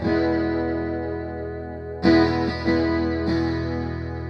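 Sustained electric guitar chords with a shimmering, wavering chorus tone, re-struck twice midway, playing alone without any talk.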